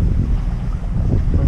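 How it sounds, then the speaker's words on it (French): Heavy wind buffeting the microphone aboard a sailboat running before a 13-knot following breeze at sea off Italy, a loud continuous low roar with faint water wash underneath. "Le vent est de 13 nœuds arrière, complètement arrière."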